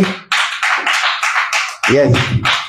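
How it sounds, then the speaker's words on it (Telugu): A church congregation claps in a quick, steady rhythm, close and loud, while a pastor briefly calls out over the clapping. "వీలైతే గట్టిగా చప్పట్లు కొట్టండి."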